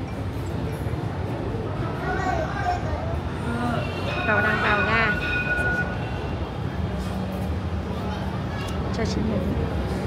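A Hanoi metro train runs on the Nhổn–Ga Hà Nội line, a steady rumbling rolling noise filling the whole stretch, with a brief squeal midway, as people talk throughout.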